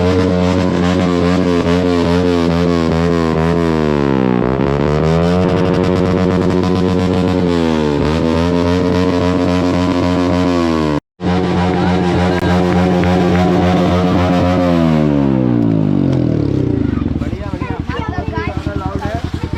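A Yamaha R15M motorcycle fitted with a full-system aftermarket exhaust, revved hard close by: a loud, raspy engine note climbing and falling through repeated rev sweeps, with a brief cut before revving again.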